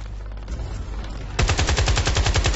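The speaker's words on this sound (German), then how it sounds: "da oben höre ich irgendwie einer, der sein MG fertig ballert." Machine gun fire in the shooter game Battlefield Play4Free: a dull backdrop gives way to a loud, rapid, steady burst of automatic shots that continues to the end.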